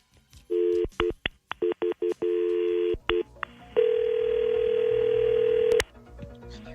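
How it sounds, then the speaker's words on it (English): Touch-tone telephone keypad beeps as a call is dialed, a quick irregular run of short dual-tone presses, then a steady ringback tone held for about two seconds, loud and close with no talking. "we're going to have Shannon call him up"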